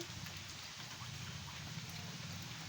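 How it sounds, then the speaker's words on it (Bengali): Steady rain hisses evenly throughout, a dense, soft wash of falling water with no breaks, fairly distant and quiet. "দূর থেকে বৃষ্টির শব্দ গুনছি"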